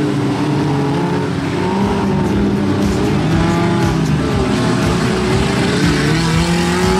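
Junior sedan race cars circle the dirt track at Mildura Speedway in a loud, dense pack, engines droning and warbling together continuously at close range.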